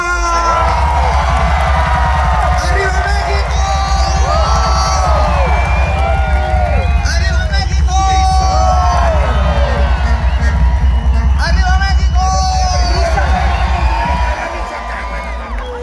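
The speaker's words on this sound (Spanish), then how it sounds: "Ahora que aplauda la gente que tenga sangre mexicana." A huge crowd at a concert in Dodger Stadium cheers, whoops and shouts loudly, a dense roar with many voices rising over a low rumble, which drops a little near the end.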